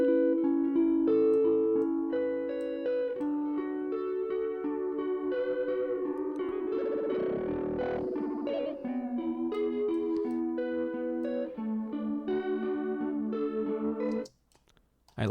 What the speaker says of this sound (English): Now to me, it kind of sounds like this stereo effect where the tape is sort of out of phase a little bit.